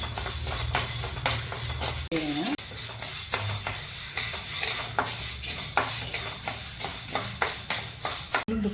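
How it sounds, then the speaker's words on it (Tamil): Chana dal is dry roasted in a pan and stirred steadily, the dry lentils rattling and scraping against the metal while a voice talks over the stirring. "கடலைப்பருப்புங்க கருகாமல் நல்லா வறுத்து பொறுமையாக அளவாக வச்சு வறுத்து எடுத்துக்கலாம்."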